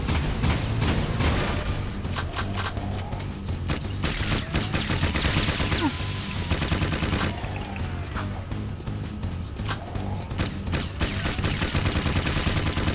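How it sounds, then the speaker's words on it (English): Rapid, continuous gunfire from the blue gun in the video game Jak II, a dense loud rattle of repeated shots with booming impacts running throughout, with no talking. "I need blue gun."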